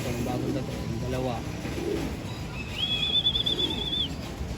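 Homing pigeons coo softly nearby at their loft while someone talks and a thin whistle sounds briefly.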